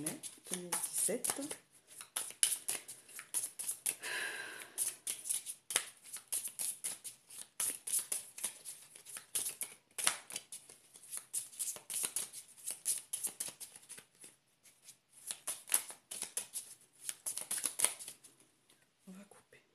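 Tarot cards shuffled repeatedly for a weekly energy reading, a steady run of crisp riffling bursts close to the microphone with brief pauses between them.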